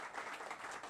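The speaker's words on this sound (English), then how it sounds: "now you can all applaud for the wonderful work for these" Audience applause for election candidates at a City Council elections forum, a steady wash of many hands clapping throughout, moderately loud and continuous with no talk.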